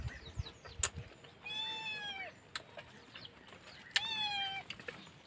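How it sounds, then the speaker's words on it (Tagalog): A small kitten meows twice, thin and high-pitched, with a pause between cries and some light rustling and knocks around it. "Pati itong si Crooked na kuting gustong sumaba sa akin."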